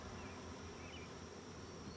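Honey bees from a freshly caught swarm buzz steadily in a bucket, a continuous low, close drone with no voices over it.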